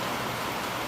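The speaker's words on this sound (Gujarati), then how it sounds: "વરસાદ આવી ગયો થોડો" Light rain falls as a steady, even hiss of drops, soft and continuous with no distinct patters and no voices.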